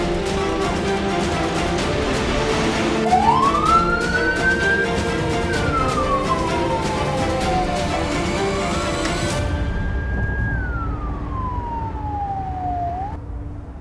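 An ambulance siren wails in long rising and falling sweeps, loud and close over steady traffic-like noise, with no talking, before cutting off abruptly near the end.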